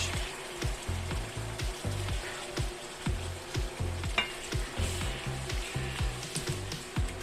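Beef and vegetables stir-fry in black bean sauce in a hot pan, a loud steady sizzle broken by rhythmic scraping and tossing strokes of the spatula, close and without talk.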